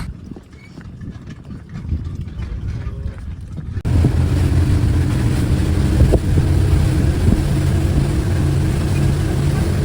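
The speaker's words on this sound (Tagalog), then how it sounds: "Mas malaki yung speedboat namin ngayon compare yung nagpunta kami dito." A large speedboat carrying many passengers running on the sea, its engine a loud steady drone that swells partway through, with wind and water rush and voices talking over it.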